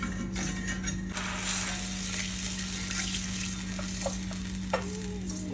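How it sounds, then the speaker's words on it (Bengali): Nigella seeds (kalo jire), Kashmiri chilli powder and turmeric tempering in hot oil for a hilsa dish, giving a dense, continuous close sizzle with a steady hum underneath and a few small clicks of a stirring spoon. "তারপরে দিয়ে দিলাম কালো জিরে ফোড়ন, একটু কাশ্মীরি লঙ্কা গুঁড়ো দিয়ে দিলাম"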